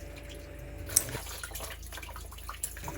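Water rinses through a kitchen sink drain pipe during a DIY leak repair, a steady, quiet wash of running water with a couple of faint drips, close and without talk.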